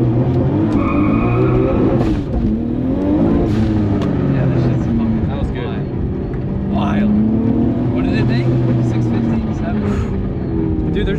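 A Nissan Skyline R32 GT-R's engine roars hard at full throttle during a launch, with rising revs and tire noise, while people talk loudly over it throughout.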